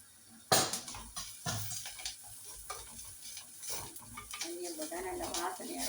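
Fenugreek seeds frying in hot oil for a tamarind-based dish, a sharp initial crackle settling into a steady sizzle with light stirring clicks, heard close under a talking voice.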